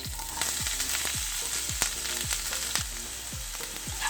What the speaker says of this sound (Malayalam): ഒരു ചെറിയൊരു ക്യാരറ്റ്, 2 പച്ചമുളക്, ഒരു ചെറിയ സവാള അരിഞ്ഞത് ഇതൊന്ന് നമുക്കൊന്ന് ഇട്ട് കൊടുക്കാം